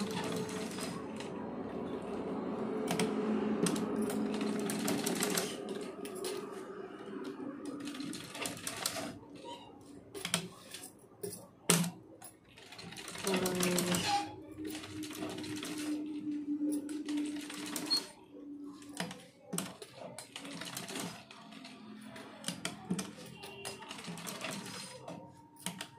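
A sewing machine runs stitch after stitch on a blouse, making a double line of stitching in bursts with short pauses between runs. The rattle is close and steady.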